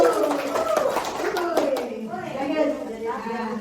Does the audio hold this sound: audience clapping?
yes